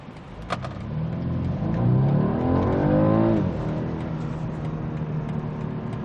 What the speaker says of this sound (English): this is just a little wee 4-cylinder engine